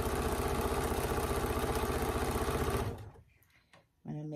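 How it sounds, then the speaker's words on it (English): Sewing machine stitching four-patch quilt patches runs in a steady, rapid mechanical rhythm for about three seconds, then stops; faint handling sounds follow, with a brief thump near the end. "I'm just going to start sewing."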